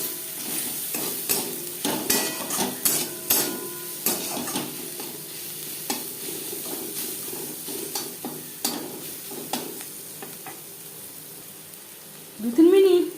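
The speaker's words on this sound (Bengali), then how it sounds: "পেঁয়াজের সাথে রসুন বেশ ভালো করে মিক্সড করে দেব।" Onion and garlic frying in a pan for dal fry, with repeated spoon scrapes and stirring clatter over a soft sizzle, nearby, then a brief louder burst of noise at the end.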